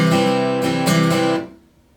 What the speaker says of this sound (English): I'll demonstrate the strumming pattern